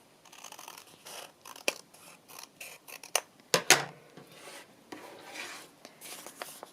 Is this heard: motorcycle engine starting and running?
no